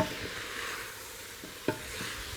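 A spoon stirs orange zest and spices into a pot of carrot tahini soup. A soft, steady background hiss runs throughout, with a few light scrapes and one clearer knock against the pot.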